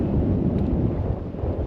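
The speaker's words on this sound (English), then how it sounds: "I'm sure you can tell how much wind is blowing by the noise" Strong wind blowing across open water near sandbars on the Gulf side of the Florida Keys, a loud, continuous low roar and rumble buffeting the microphone without a break.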